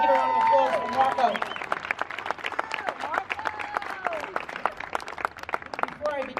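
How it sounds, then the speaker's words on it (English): Outdoor crowd at a small business rally in Staten Island applauding a State Assembly candidate, scattered clapping with cheers and shouts, loud at first and thinning into sparse claps. "Everybody give a round of applause for Marco"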